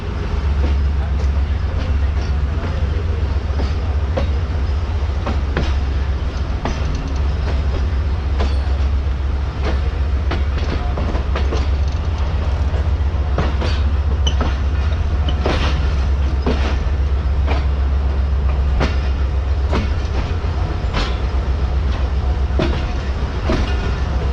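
Pak Business Express passenger train hauled by a GU40 locomotive, running steadily with continuous loud rumble, rattling wagons and clickety-clack wheel beats throughout, with scattered metallic clanks and squeals.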